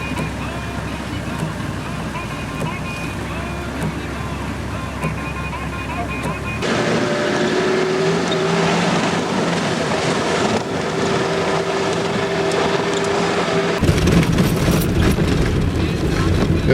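A vehicle drives along a flooded outback track on the Gunbarrel Highway in heavy rain, with a steady loud wash of water spray and road roar and a constant engine hum, and people talking over it.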